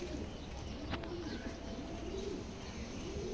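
Female racing pigeons coo softly in low, repeated burbling calls over a constant faint background hiss, fairly distant and without speech.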